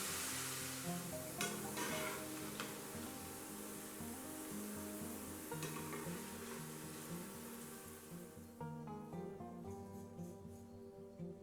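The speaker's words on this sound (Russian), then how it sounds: "Точно так же небольшими порциями обжариваем остальной картофель." Small batches of potato straws fry in hot oil, a steady close sizzle and crackle with faint stirring and pan clinks throughout, no voices, the hiss thinning toward the end.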